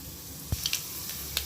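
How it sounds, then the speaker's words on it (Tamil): Mustard seeds, urad dal, cumin and chana dal sautéing in hot oil give a quiet, steady sizzle, with a few sharp pops and crackles and a soft stirring knock near the start. "இது எல்லாத்தையும் சேர்த்து நல்லா வதக்கிக்கிறோம்"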